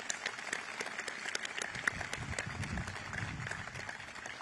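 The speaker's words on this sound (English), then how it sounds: "Let's give your mom a big round of applause." An audience at a U.S. Southern Command change of command ceremony claps steadily, a soft, even patter of many hands heard from a distance, with faint voices underneath.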